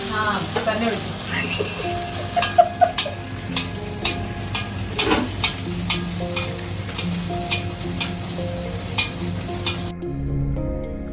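Hot oil sizzles in a pan while a Kerala-style chicken curry is cooked, a steady frying hiss with utensil clinks and stirring scrapes, tonal music-like hum underneath, ending abruptly near the close.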